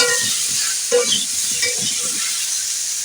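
Ash gourd curry with salt is stirred in a frying pan, giving a steady hissing sizzle broken by a few scraping strokes of the spoon, close by and with no talking.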